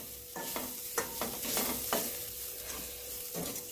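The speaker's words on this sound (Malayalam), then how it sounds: "ഇതും നന്നായിട്ട് നമ്മളൊന്ന് ഇളക്കി കൊടുത്ത് ഒന്ന് വേവിച്ചെടുക്കണം." Drumstick-leaf egg thoran with grated coconut being stirred in a pan, a soft continuous sizzle broken by repeated scraping strokes of a spoon, close and moderately loud.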